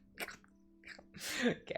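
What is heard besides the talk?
sneeze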